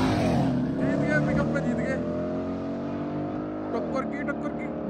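A Ford Mustang GT and a Mercedes accelerate hard side by side in a drag race, loud rising engine notes with a gear shift near the end, and people talking over them.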